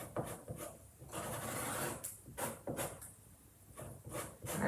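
Gritty chalk pastel rubbed back and forth through a screen, a steady rasping scrape in repeated strokes with short pauses between them, close and fairly loud with no talking.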